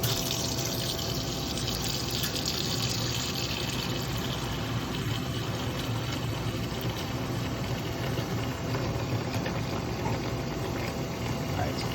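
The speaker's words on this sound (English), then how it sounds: "fill that with nice hot water and let them soak" Hot water running from a tap into a sink to soak espresso machine parts with Cafiza cleaner, a steady, continuous rushing gush with no pauses, moderately quiet and even throughout.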